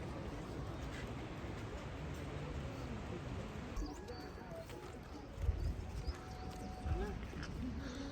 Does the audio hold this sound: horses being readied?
yes